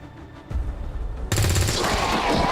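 Gunfire in the video game XCOM 2: a quieter lead-in, then a loud, dense burst of rapid automatic shots with heavy low-end impact, close and sustained to the end.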